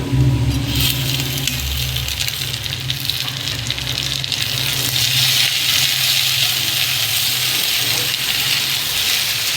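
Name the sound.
okra frying in a pan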